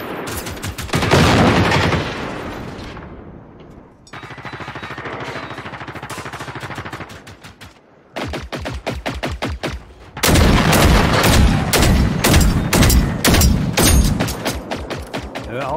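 Bursts of gunfire in Generation Zero, rapid automatic volleys and single shots fired toward the player, loud and close, broken by short pauses and growing denser toward the end.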